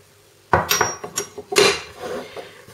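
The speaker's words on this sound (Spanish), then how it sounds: "En un mortero vamos a poner el sésamo tostado, pondremos una pizquita de sal" Toasted sesame seeds and a pinch of salt tipped into a mortar, giving several quick clattering, clinking knocks close by, one after another with no talking.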